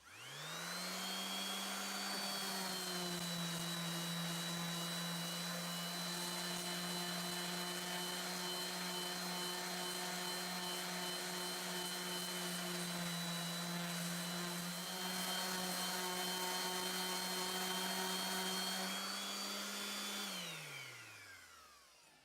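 A power tool sands a turquoise inlay on a guitar with a loud, steady motor whine that holds for about twenty seconds, then winds down and stops.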